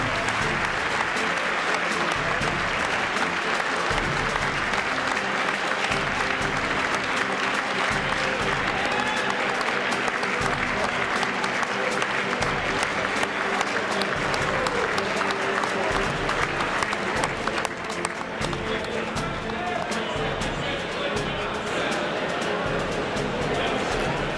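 Prolonged applause from a Congress audience after a presidential speech, a loud wash of many hands clapping with crowd noise and scattered voices mixed in throughout.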